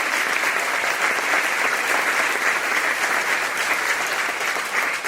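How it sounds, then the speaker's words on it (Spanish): Applause from a church congregation praising Jesus during a sermon by Padre Bernardo Moncada, a sustained, even roar of many hands clapping at moderate loudness. "Fuertes aplausos al Rey de Reyes"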